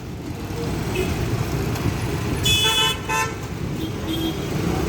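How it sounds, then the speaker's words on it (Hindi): Traffic at a busy intersection on the Chandrapur-Nagpur road at Warora Naka in Chandrapur, a steady near engine rumble with two short car horn blasts around the middle, with faint voices in the background. "चंद्रपुर नागपुर रोड पर यह सबसे व्यस्त रहने वाला चौक है"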